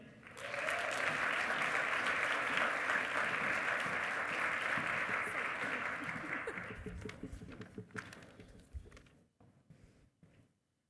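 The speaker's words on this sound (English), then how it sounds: "let's give one more huge round of applause for all of the quad director candidates" A large audience gives a big round of applause for board director candidates, a dense, loud wash of clapping that holds steady and then fades into a few last scattered claps.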